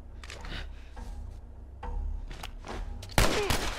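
Gunfire from The Last of Us video game crackles in several bursts, sharp reports spread across the moment and ending in a louder, closer volley.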